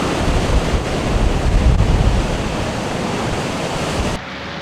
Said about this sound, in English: So impressive, the force of these waves.